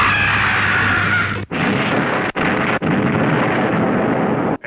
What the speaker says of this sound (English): the only two sounds in this episode, which were lasers and explosions